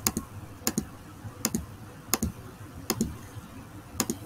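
Sharp mouse clicks on a computer while selecting pixels in emoji pixel art, coming in irregular single and double clicks spaced about a second apart, close and fairly quiet, with no talking.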